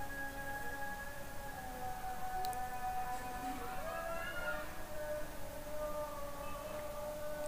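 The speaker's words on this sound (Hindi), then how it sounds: "यहाँ पे अजान हो रही है और इतनी ज़बरदस्त फीलिंग आ रही है" A Maghrib call to prayer (azan) sung over loudspeakers at Badshahi Mosque in Lahore, a sustained, wavering melodic voice carrying steadily through the open air with crowd murmur beneath.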